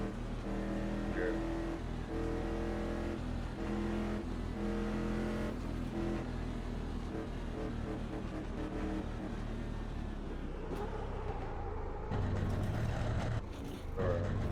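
Super Trophy Truck engine in the Automobilista 2 racing game at Road America, loud and steady throughout with strong low harmonics, revving and shifting as it drives, with a brief faint voice near the end.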